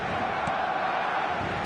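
A stadium crowd roars in an eFootball match, a steady loud wall of cheering and chanting that fills the space without a break.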